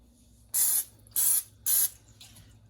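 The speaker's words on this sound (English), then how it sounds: "Give it a nice little spray, non-sticking oil." Three short, sharp hissing sprays from an aerosol can of non-stick cooking oil, evenly spaced and close up, followed by a fainter fourth puff.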